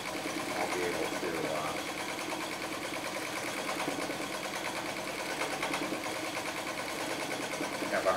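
A vintage White sewing machine runs continuously during free motion quilting, a steady close mechanical whir with fast stitching rhythm and a voice talking faintly over it.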